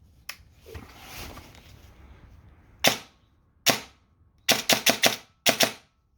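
An airsoft ARP rifle with a hair trigger fires sharp, loud cracks close by: two single shots, then a quick run of four and a pair, after a brief soft rustle at the start.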